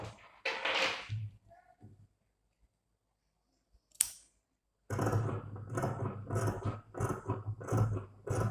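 Scissors cut blouse fabric in sharp, close snips. A short quick cluster of cuts is followed by a near-silent pause, then one crisp snip and a steady run of rhythmic cutting strokes.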